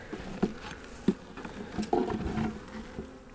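Honey bees hum at a hive while a beekeeper works the frames: a faint, soft buzzing with a few light knocks and taps, no talk.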